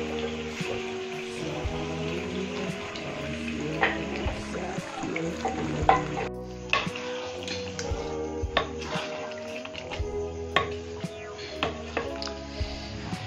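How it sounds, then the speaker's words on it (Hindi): Turnip, spinach and meat are stirred together in a cooking pot for a spinach-turnip chicken dish, giving a steady run of wet clanks, scrapes and soft splashes with frequent small knocks of the spoon. "ये देखो शलजम और पालक को ये इसको मिक्स करने लगी।"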